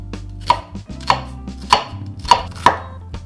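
A knife chops onion on a cutting board for a chickpea curry base, five crisp, evenly spaced thuds in a steady rhythm, close and clear with no talking.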